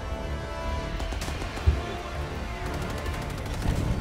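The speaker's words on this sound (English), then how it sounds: "Oh, gunfire." Gunfire from the Call of Duty: Vanguard teaser trailer: scattered sharp shots and short bursts over a dense, rumbling soundtrack, with one louder report standing out midway.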